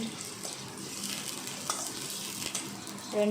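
Green chillies and ginger frying in hot oil in a pan, a steady soft sizzle with faint stirring scrapes throughout, close and alone.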